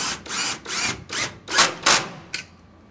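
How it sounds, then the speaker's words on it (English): A power drill whirs through wood in a series of short, rising bursts, about seven pulses in quick succession, close and loud, drilling a screw hole while installing a hinged security door. "We'll drill the hole first and then put the large screw in."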